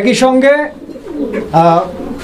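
Pigeons coo in short, throaty bursts at a pigeon market, close and fairly loud, with two distinct calls separated by a brief pause.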